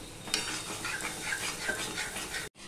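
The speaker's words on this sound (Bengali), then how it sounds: "বেশ খানিকক্ষণ আমি এইভাবে নাড়তে থাকবো। পোস্তটা যাতে ভাজা ভাজা হয়" A spoon stirs poppy seeds as they dry-fry in a pan on medium heat, giving a soft, steady scraping with a faint sizzle that runs close and quiet throughout, then cuts off abruptly.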